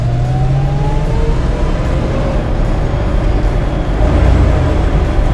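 1967 Ford Mustang with a T-5 transmission being driven, heard from inside: a steady, loud engine drone and road rumble that shifts pitch slightly as it cruises, with no talk.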